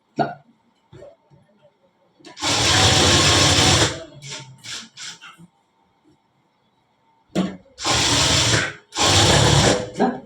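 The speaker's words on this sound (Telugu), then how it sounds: "ఇప్పుడు నీట్గా స్టిచ్ చేసేది మొత్తం" Sewing machine stitching a lined blouse, running in two loud bursts of steady whirring with brief pauses and softer handling noises between.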